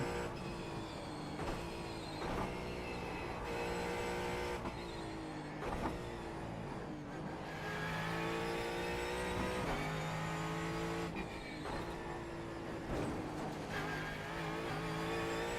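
A race car engine in a racing video game revs and drones continuously, pitch climbing and dropping through gear changes and corners, loud and close with no talking.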